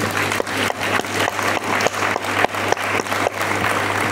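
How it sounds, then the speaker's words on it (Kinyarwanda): A congregation at a church sermon applauds for an absent man named Daniel, steady dense clapping with a few sharper claps standing out, sustained across the whole stretch with no voice over it. "reka tumukomera amashyi"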